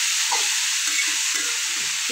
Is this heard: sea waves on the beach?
no